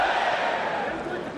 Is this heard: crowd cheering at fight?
yes